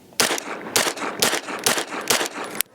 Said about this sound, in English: I'm going to shoot some SuperVel 115, of course. I'll do 5 rounds out of the stock configuration